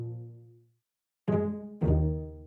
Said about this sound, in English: I have this pizzicato cello layered on top of the chords